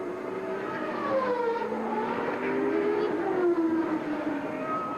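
A Formula 1 car running in qualifying at the 1990 Brazilian Grand Prix, a high engine whine sweeping in pitch as it passes, with fainter engines under it and a commentator talking over.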